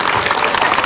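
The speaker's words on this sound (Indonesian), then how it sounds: "Tepuk tangan." Applause from a studio audience on an Indonesian Islamic television talk show, a dense, loud wash of clapping hands filling a very brief moment.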